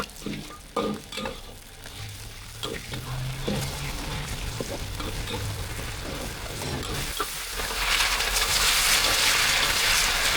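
Food sizzles and crackles steadily in a hot pan, with occasional stirring clatter and a brief voice, the hiss swelling louder toward the end.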